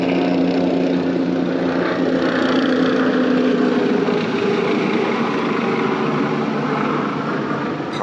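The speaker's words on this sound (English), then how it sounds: "Pardon the airplane." An airplane passes overhead, a steady loud drone of engine and propeller that holds across the whole stretch and fades slightly at the end, with no talking.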